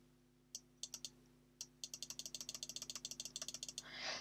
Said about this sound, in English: Sorry for the loud mouse, my other quiet one's on charge.